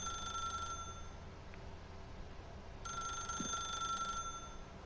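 In The Stanley Parable, a telephone rings in two quiet electronic bursts separated by a pause, thin and steady over a low background hum.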